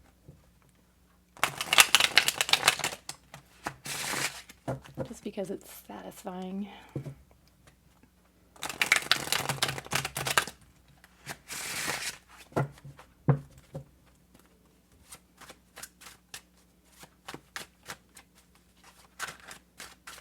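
Crisp bursts of tarot cards being riffled and shuffled, close up, in several rounds with pauses, with a person speaking briefly between them.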